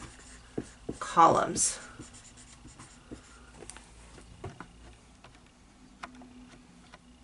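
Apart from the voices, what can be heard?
writing on paper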